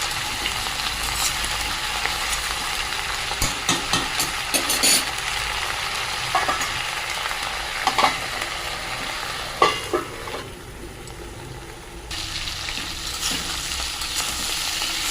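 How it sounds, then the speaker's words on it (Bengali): Onion greens, potato and beans are stirred with salt in a pan, a steady sizzling frying hiss running throughout with intermittent scraping clicks of the spatula, close and fairly loud. "আমি জল দেবো না, নুন দিয়ে একটু ভালো করে নেড়ে চাপা দিয়ে দেবো।"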